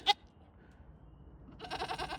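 Young goat kids bleating in a milk barn, a short sharp cry at the start and a longer wavering bleat near the end, close and fairly clear over a quiet background.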